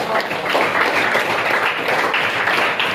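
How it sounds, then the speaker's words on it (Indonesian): A small class of students claps during a lesson, a brief, fairly loud patter of hands that runs continuously for a few seconds without speech. "tepuk tangan dulu dong untuk menjawab"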